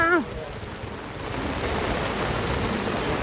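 Steady heavy rain pours over an open-air market at a border crossing in Nakhon Phanom, Thailand, a dense continuous hiss of drops on surfaces, with a brief voice at the very start.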